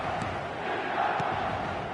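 A football stadium crowd in a football video game roars in a steady, dense wash of cheering and chanting, loud and sustained across two seconds, with a couple of brief sharper shouts.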